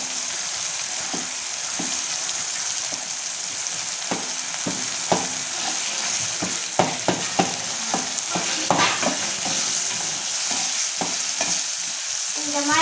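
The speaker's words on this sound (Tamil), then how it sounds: "கலக்கி இந்த அம்மா கலக்குவாங்க" Drumstick leaves (murungai keerai) are stirred in a hot pan, steady frying sizzle under repeated scraping strokes of a spoon against the metal, close and fairly loud throughout.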